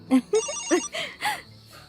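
A mobile phone rings nearby with an incoming call, playing a quick melodic ringtone of short bright tones and chimes in a bouncy rhythm.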